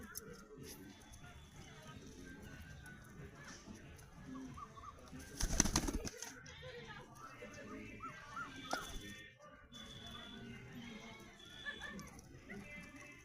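Soft pigeon cooing and bird calls with a burst of flapping wings midway, under quiet background talk.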